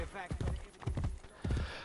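A horse gallops in Assassin's Creed Brotherhood with rhythmic clusters of hoofbeats pounding close, while a player talks and urges the horse on over the clip-clop.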